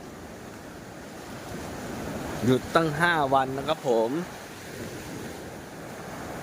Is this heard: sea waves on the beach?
yes